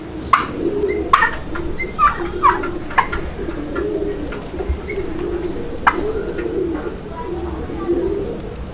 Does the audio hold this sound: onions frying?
no